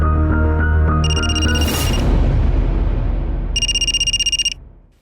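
A telephone rings twice in short trilling bursts, with a pause between them, over a low rumbling musical backdrop.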